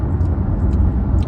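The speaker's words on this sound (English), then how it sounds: "I'm driving on the road right now." A car drives along a road, heard from inside as a loud steady low engine and road rumble with no distinct events and no talk.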